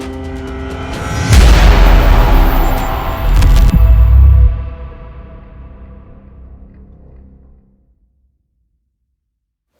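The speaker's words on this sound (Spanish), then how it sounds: "el Britannic fue sacudido por una explosión" Deep booming explosion rolls in after a building rumble, surges again, then a long low rumble fades away into silence; heavy and loud.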